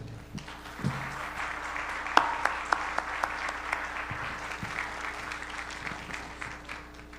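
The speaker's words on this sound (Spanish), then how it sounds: "Un aplauso para ellos." Moderate applause from a smallish audience, scattered claps building into steady clapping that continues throughout without talk.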